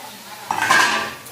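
Chicken pieces go into a pan of cooked-down spices for a Bengali chicken kosha curry, making a brief, close metallic clatter and a burst of sizzle after a quiet moment. No one speaks.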